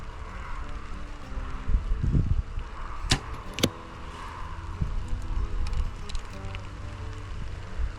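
A light rain shower falling outdoors makes a constant close patter and hiss throughout. Two sharp, bright clicks stand out near the middle, and a low rumble sits underneath.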